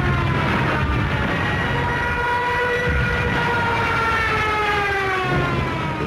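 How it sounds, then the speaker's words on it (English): The screaming siren of a German Junkers 87 Stuka dive bomber: a loud, continuous wailing scream with slowly shifting pitch, steady and dense throughout. "The German Junkers 87 dive bomber, nicknamed the Stuka, and fitted with a screaming siren"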